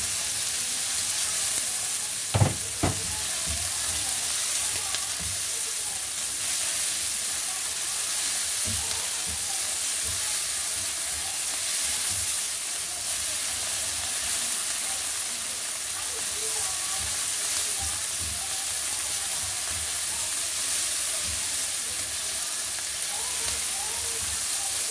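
Small squid frying in a pan, a steady broadband sizzle running the whole time with a couple of brief clatters early on and occasional stirring noises.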